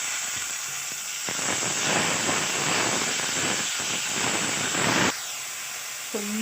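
Chopped tomatoes, three of them, hit hot oil with cumin and dried red chillies in a pan, setting off a loud, steady hiss and sizzle that runs for about four seconds and then abruptly drops away.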